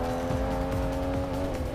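Cars race and drift in a mobile racing video game, a steady loud engine drone with a held tonal whine and no break, heard alone with no talking.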